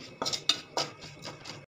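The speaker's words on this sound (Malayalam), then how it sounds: "ഇതൊന്ന് ഇളക്കി കൊടുക്കാമേ" Mustard seeds, dried chili, curry leaves, chili powder and turmeric stirred in a pan with a metal spoon, a handful of close scraping clinks spaced roughly a quarter second apart before stopping.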